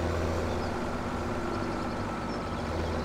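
A tractor engine in Farming Simulator 2017 drones at a steady low idle, a constant rumbling hum with no change in pace across the whole stretch.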